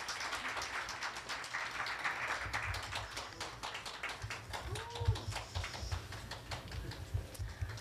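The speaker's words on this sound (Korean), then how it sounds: "예, 박수 주시기 바랍니다." Soft, scattered applause rises from the audience at a Korea University award ceremony for online-course supporters, a faint patter of distant claps with a brief voice sound partway through.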